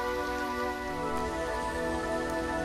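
Steady rain falling in a city park, a dense even patter that fills the scene without pause, with no voices.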